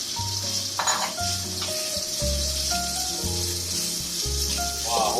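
Salted fish fries in hot oil, a constant close sizzle and crackle with occasional clinks of a utensil against the pan, under background music.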